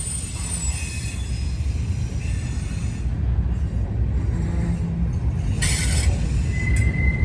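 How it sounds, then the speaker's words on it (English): Long freight train of double-stack and auto-rack cars pulled by a single CSX locomotive rolls past in a steady heavy rumble, with high-pitched wheel squeals rising near the end. "Only one locomotive pulling this whole train."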